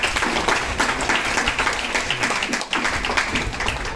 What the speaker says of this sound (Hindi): लोखंडे साहब के लिए तालियों से स्वागत किया जाए